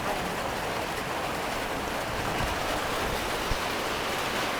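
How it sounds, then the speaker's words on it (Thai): Rain falls on a vegetable garden in a soft, even hiss of fine patter, steady and fairly quiet throughout, with no voices. "ฝนตก"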